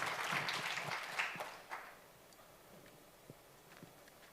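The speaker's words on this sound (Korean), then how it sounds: "박수 부탁드립니다." Brief, faint applause from a forum audience fades out within the first couple of seconds, leaving a quiet room with a few scattered claps and taps.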